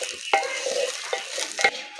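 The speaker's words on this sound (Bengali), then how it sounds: "চালটা ভাজা হয়ে গেছে, এবার জল দিয়ে দেবো।" Rice frying in a pan for basanti pulao gives a short burst of spatula scrapes and light sizzling, close up, with no voices.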